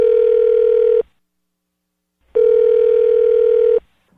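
A telephone line gives a steady dial-tone style tone as a radio phone prank call connects, sounding in two long, loud, even pulses with a silent gap between them and no voices.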